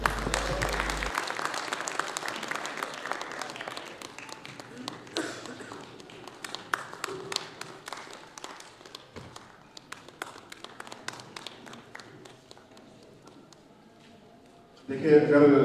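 Audience applause at a mushaira poetry gathering, a long stretch of scattered, uneven clapping from a seated crowd that thins out toward the end, with a voice briefly heard at the close.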